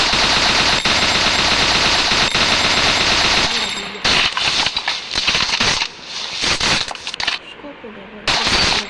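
Gunfire from a shooter video game as a scoped sniper takes out an enemy: loud, dense bursts of shots with crackling impacts, dropping away and then returning in sharp bursts, with some talk mixed in.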